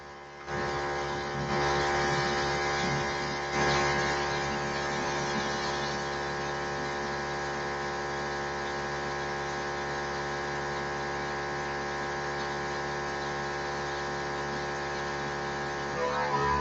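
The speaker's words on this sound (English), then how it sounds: "So let's see here to paint this with this compressor" An air compressor runs steadily during spray painting, a constant close mechanical hum and whine that holds nearly unchanged from start to finish with no talk.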